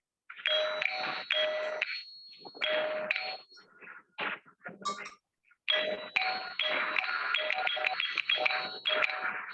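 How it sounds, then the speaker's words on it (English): An electric doorbell rings in long sustained bursts with a steady metallic buzz, broken by a short pause with scattered clatter before ringing resumes loudly. "nothing but a doorbell, electric bell"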